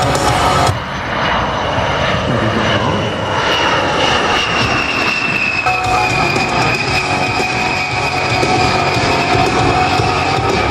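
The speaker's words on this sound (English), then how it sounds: "This slow speed pass will give you a good chance to see the A-10's" An A-10 jet aircraft making a slow speed pass at an airshow, its loud, steady engine roar with a high whine filling the whole clip close by.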